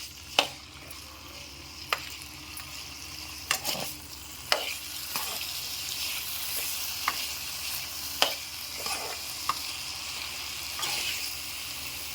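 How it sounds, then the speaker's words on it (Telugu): Plantain pieces sizzle and fry steadily in hot oil tempering, with a few sharp clinks of a utensil stirring in the pan. "ఇలా స్ట్రెయిన్ చేసుకున్న తర్వాత తాలింపులోకి యాడ్ చేయండి ఈ ముక్కల్ని"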